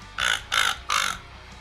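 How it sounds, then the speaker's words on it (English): Three evenly spaced, sharp crow caws from a crow caller, close and loud, each a short raspy burst with brief silence between. "You can buy a crow caller on Amazon"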